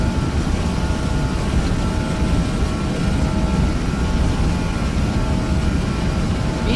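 Airliner engines at takeoff power in Flight Simulator X give off a steady, loud roar with a faint whine, unbroken and alone for the whole stretch.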